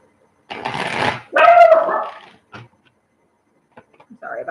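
A dog gives a couple of loud, close barks and a whining vocalization, followed by quieter scattered sounds.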